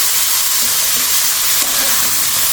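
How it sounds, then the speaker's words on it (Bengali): Mixed vegetables frying in a pan with salt, turmeric and cumin powder, giving a steady close sizzle with occasional stirring scrapes. "আমি সমস্ত সবজিগুলো একসাথে দিয়ে দিচ্ছি। একটু ভাজা করবো নুন দিয়ে।"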